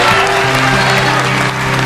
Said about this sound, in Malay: kita berikan tepukan untuk Daffy